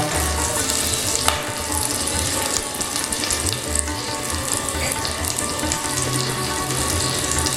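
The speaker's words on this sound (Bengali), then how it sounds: "আমি এই ফোড়নে কাঁচা লঙ্কা দিলাম" Green chilies hiss and sizzle loudly in hot tempering oil for a Bengali moong dal with pointed gourd, a close, continuous frying crackle with occasional stirring.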